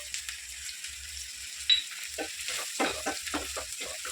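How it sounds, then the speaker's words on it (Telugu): Onions, chillies, curry leaves and turmeric fry in a pan with a steady close sizzle, broken by a few scraping stirs and clinks near the end. "పసుపు కొంచెం వేగింది కదా"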